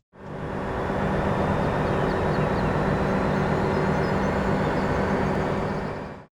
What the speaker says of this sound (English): the train sounds, I really didn't like the train sounds. Here's an example.